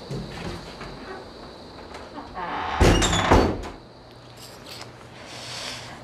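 A door bangs shut once in a domestic scene, a single loud thud over a steady low room hum, with no other clear sounds around it.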